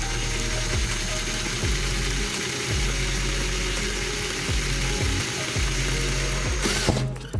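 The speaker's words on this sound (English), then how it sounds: "I'm just going to let the weight of the drill do the work." A power drill slowly boring a hole under only its own weight while building a tabletop gaming raft prop, a steady loud whirring grind with a low periodic rumble, running continuously, then easing off near the end.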